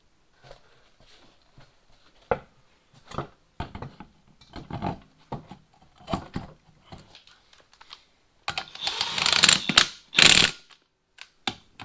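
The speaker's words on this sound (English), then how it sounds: "Gotta use my handy dandy pipe wrench here because my big wrenches are at work" A pipe wrench tightens the rear axle nut on a Suzuki King Quad 300 ATV after a rear brake shoe replacement: a series of clicking, ratcheting metal turns in irregular bursts, ending in louder grinding clanks close by.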